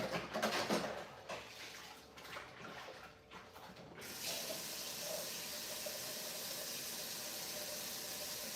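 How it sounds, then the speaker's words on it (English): Hands washed under a running tap, starting with uneven splashing and rubbing. After a few seconds it settles into a steady, even stream of water pouring into a sink, close and moderately quiet. "I'll wash my hands off"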